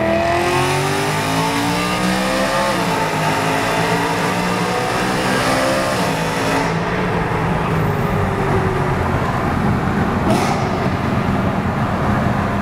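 A BMW E92 M3 with the S65 V8 and Eventuri intake driving through a tunnel, its engine revving and climbing in pitch, loud and echoing, with a brief gear change midway and no talking.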